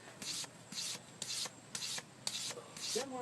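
A hand axe edge worked in circular strokes on abrasive paper to remove a burr, six rhythmic scraping rubs of even length close by, with brief pauses between strokes and no speech.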